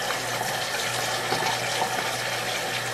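Cold tap water running steadily over cooked shrimp in a kitchen, a constant broadband rush with a low hum beneath, no speech.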